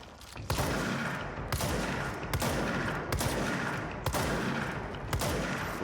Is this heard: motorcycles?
no